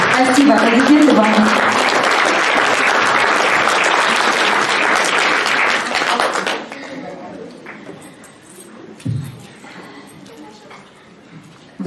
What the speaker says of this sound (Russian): Спасибо, аплодисменты вам.